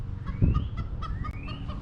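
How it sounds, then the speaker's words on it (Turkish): A hen clucks in quick, repeated bursts close by, a steady rhythmic cackling with a low thump near the start. "Bizim tavuk da bağırmaya başladı."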